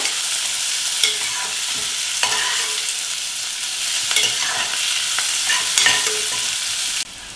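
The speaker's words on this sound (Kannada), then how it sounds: "ಈರುಳ್ಳಿ ಸ್ವಲ್ಪ ಕಲರ್ ಚೇಂಜ್ ಆಗೋವರೆಗೂ ಹುರಿಬೇಕು" Half an onion fries in a pan for spinach pulao, a loud steady sizzle with repeated scraping strokes of a stirring utensil, close and alone without talk.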